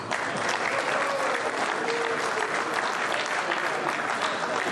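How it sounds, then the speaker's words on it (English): Dinner audience breaking into sustained applause as a congressman is called up on stage, a full, even wash of clapping from a large room with a few voices mixed in. "Okay, on a federal level, you can applaud."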